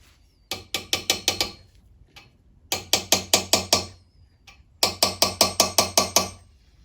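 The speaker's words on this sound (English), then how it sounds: "I'm just using a little hammer so I don't get too carried away." Small hammer tapping a valve stem seal into place on a Dodge Ram 5.7 Hemi engine, struck in three bursts of about six quick, sharp metallic taps each, close and loud with short pauses between the bursts.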